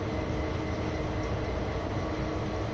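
A locomotive driving in the Train Sim World 2 video game, a steady dense rumble of engine and rolling wheels, continuous and fairly loud with no talk.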